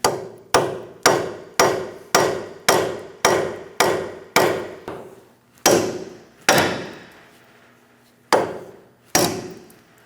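A hammer strikes a bolt in the steering knuckle of a 2012–2020 Chevrolet Sonic, the bolt fitted with its nut. Eight evenly spaced metallic taps come first, then four slower, heavier blows, each ringing briefly and close by.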